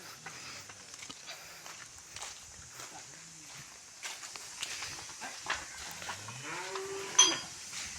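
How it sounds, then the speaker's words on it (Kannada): Cows from Punjab move about a shed, hooves shuffling and several low moos rising at intervals, fairly quiet and a little distant, with a sharp knock near the end and people talking softly. "4 ಹಸುಗಳು ಇಲ್ಲೇ ಹೋಗ್ತಾಯಿದೆ."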